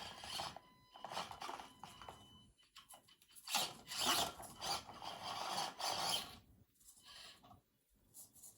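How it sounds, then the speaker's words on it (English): Oversized Pro-Line Trail King M/T tires with Blaise Blade inserts on a stock Axial SCX24 RC crawler rubbing against the body: faint, irregular scuffing and rasping bursts with short quiet gaps. "we have a ton of rubbing because these tires are huge"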